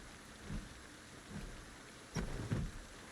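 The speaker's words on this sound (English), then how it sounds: "Get out of the rain for a few minutes" Rain falling steadily in the Project Zomboid video game, a faint, even hiss with a few soft low rumbles of thunder rolling in, with no talking.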